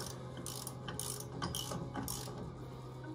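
A hand ratchet clicks in short, quick bursts, close and fairly quiet, while tightening the front brake bolts on a 2014 Polaris RZR 900.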